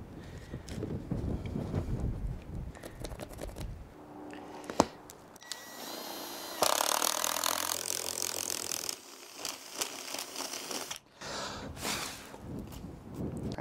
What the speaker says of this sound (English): All right, so we got our holes drilled.